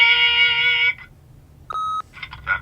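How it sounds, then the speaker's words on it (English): Answering machine in The Wolf Among Us video game gives short electronic tones: a sustained beep, a brief second tone, then a clear higher beep after a pause, followed by faint chirping blips. "Beep!"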